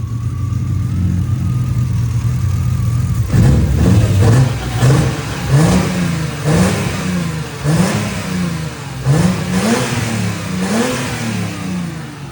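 A BMW M3 from Japan idles steadily, then revs repeatedly in a rising-and-falling rhythm, up close and loud, with a slight sputter still audible in the running.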